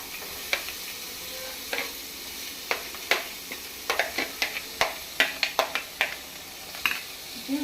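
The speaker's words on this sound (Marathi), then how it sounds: "जिरा फडफडपाक लागली की मागीर तातून घालता हांव कांदो." Finely chopped onions, two large ones, tossed into hot oil with spluttering cumin seeds, producing a continuous hiss punctuated by frequent crisp spatula clacks and stirring knocks, close and moderately loud.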